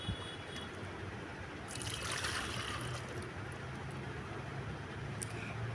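Dirty rinse water from washed lentils (dal) drains and trickles steadily in a quiet kitchen, a soft continuous splashing that swells slightly midway.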